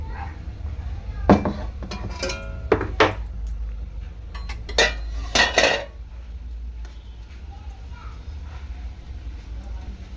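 A pot of cooked leafy-greens curry with shrimp is lifted off a gas stove, giving several sharp metallic clanks and scrapes of cookware over a low steady hum, close by, then settling into quiet.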